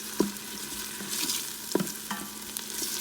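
Tomato and onions fry in a pot while a spoon stirs them, a steady close sizzle broken by a few sharp scraping clinks against the pot as the mixture is turned.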